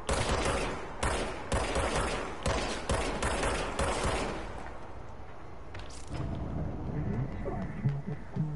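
Rapid bursts of gunfire from a weapon in the video game Control crackle loudly for about four seconds, then fade into a quieter ambient rumble with scattered faint shots.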